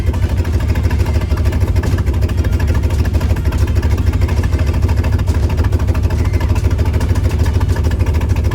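A cold car engine runs steadily at a low, rough idle, bogging at a coolant temperature of 57, its rumble continuous and close throughout with no voices.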